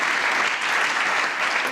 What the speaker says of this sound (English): Can we have a huge round of applause for these two?